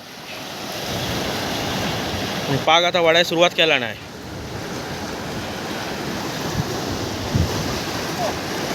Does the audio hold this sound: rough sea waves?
yes